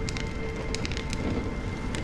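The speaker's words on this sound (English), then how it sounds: "When will this rain ever stop?" Steady rain pours down in the video game Honkai: Star Rail, a dense continuous patter of drops with a few sharper taps, with no voices heard.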